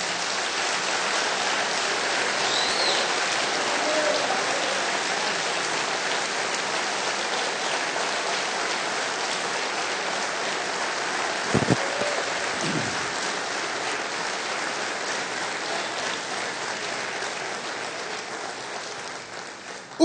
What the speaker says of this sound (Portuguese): vamos dar para Jesus, na vida dele, a melhor salva de palmas que a gente puder dar